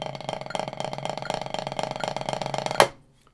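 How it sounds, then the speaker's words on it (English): Snare drum struck in steady sixteenth-note triplets at a slow tempo, a rapid even stream of crisp strokes ending on a louder accented hit that quickly rings out into silence. "16th note triplets would sound like this."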